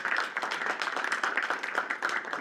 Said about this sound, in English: Give him another round of applause for Churchill.